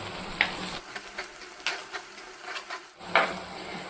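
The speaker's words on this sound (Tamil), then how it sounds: "சேர்த்துட்டு இது ரெண்டையும் நல்லா வெங்காயத்து கூட வதக்கிடலாம்" Garlic, shallots, green chillies and curry leaves sauté in a pan, with a close, steady sizzle and repeated scraping stirs of a spoon across the metal.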